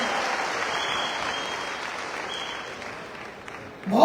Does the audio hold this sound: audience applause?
yes